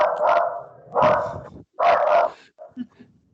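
A dog named Molly barks indoors at a dog outside: three loud, close barks in quick succession, then a couple of softer yips and whimpers as it settles.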